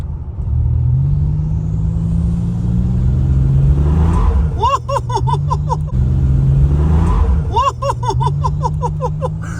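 A 1987 Buick Regal Limited fitted with a turbo accelerates hard under boost, its engine rising in pitch through two sweeping pulls while a high whistling whine climbs over the loud, close rumble.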